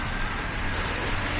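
A car passing along a snowy street in Little Manila on Wilson Avenue, Toronto, during a winter snowstorm, heard as a steady broadband road hiss and rumble with no voices.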